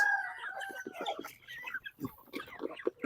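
Native chickens cluck in a busy cluster of short, overlapping calls with a few higher crowing-like notes, fairly close and steady for several seconds.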